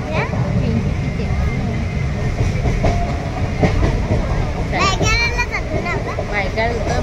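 Inside a moving local train near Byculla in Mumbai, a steady loud rumble of wheels and carriage noise runs throughout, with children's voices and people talking over it.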